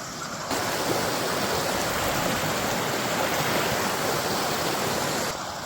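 A river rushes beside a jungle path as a steady, dense, hissing water roar, loud and unbroken, with no voices.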